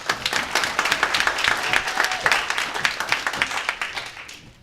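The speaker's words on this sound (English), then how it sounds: "Please give him a round of applause." An audience at a Summer Creek High School business community event gives the school principal a lively round of applause, with crisp, close clapping that holds strong and then tapers off at the end.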